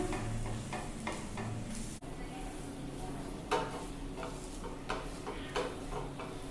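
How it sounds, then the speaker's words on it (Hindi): Egg frying on both sides in a pan for an egg roll, with a steady low sizzle and occasional scraping, clinking taps of a utensil against the pan, close and continuous without speech. "दोनों साइड से अंडा को सेक लेंगे।"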